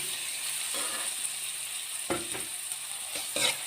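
Pepper powder, chilli powder and salt being stirred in a pan with onion and tomato for a pepper karimeen roast, a soft steady sizzle broken by a few short scraping stirs near the end, without talk.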